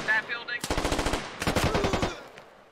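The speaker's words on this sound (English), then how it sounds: "commanding these guys to shoot through the wall" Rapid bursts of automatic gunfire in a tactical video game as squad members shoot through a wall, two rhythmic strings of close, punchy shots separated by a short gap, then trailing off.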